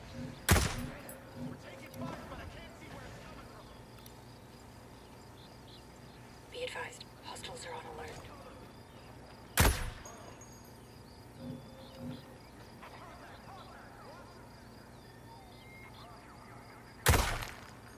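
Gunshots from Ghost Recon Breakpoint crack out as three sharp, widely spaced reports over a quiet outdoor backdrop of insect chirps. Softer game sounds fill the gaps between them.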